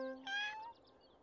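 A single short cartoon cat meow, clear and fairly close, rising then fading within about half a second before quiet.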